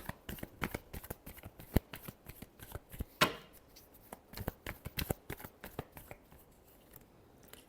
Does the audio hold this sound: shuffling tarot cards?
yes